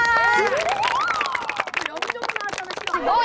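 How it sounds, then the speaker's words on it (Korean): A school class claps together in applause after a dodgeball game, with steady clapping mixed with children's cheers and chatter. "우리 다 같이 박수하면서 인사."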